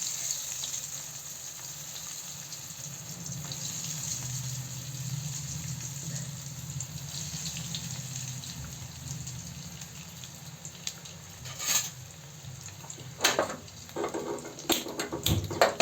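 Paneer popcorn frying in hot oil in a home kitchen gives a soft, steady sizzle throughout, with a few sharper clicks and clatters toward the end.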